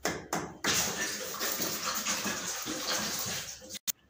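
Water pours noisily into a bottle in a home kitchen. The rush is steady and close, lasts several seconds and cuts off abruptly, followed by a brief knock.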